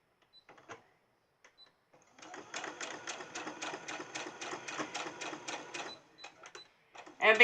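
A home sewing machine stitches a folded fabric strap for a crib hanging organizer, running in one steady rhythmic burst of rapid needle clatter for several seconds, preceded and followed by faint handling clicks, with no talking.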